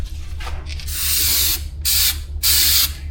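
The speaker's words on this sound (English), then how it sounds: "Premium stripper. It actually comes as a spray" Three long hissing bursts from an aerosol can of paint stripper, close and loud, separated by short pauses, with a low hum underneath.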